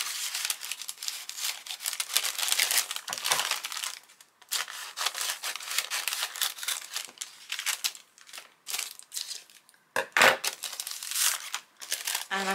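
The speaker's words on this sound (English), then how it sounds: "And I'm going to tear the top of the bag" A paper croissant bag being torn and crumpled at a desk, loud close crackling and rustling in long dense bursts with brief pauses and a sharper rip near the end.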